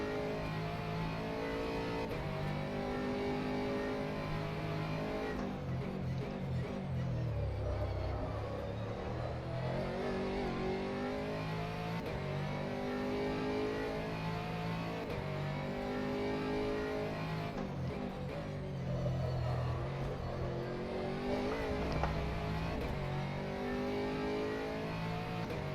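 An Aston Martin race car engine in the rFactor 2 racing game drones steadily throughout, with rising and falling revs through gear changes and braking, a continuous mid-level engine tone with no speech.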